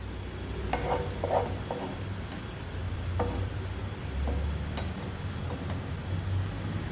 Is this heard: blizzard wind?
no